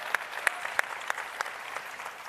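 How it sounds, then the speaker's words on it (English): Applause from a forum audience after a presidential candidate's remarks, a sparse scattering of sharp individual claps at a steady, moderate distance, fading toward the end. "Let's give him a round of applause for that."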